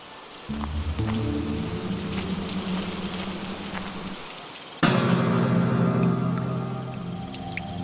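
Steady rain pours down, a dense, loud wash of drops that grows heavier and brighter partway through, continuing without a break near a derelict, crumbling house.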